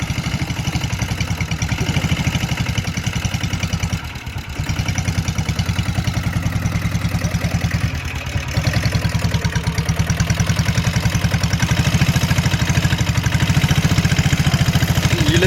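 A vintage truck engine runs in gear under load, pulling against a Bullet motorcycle, a steady loud clattering drone with a fast regular firing pulse, briefly dipping twice before rising slightly near the end.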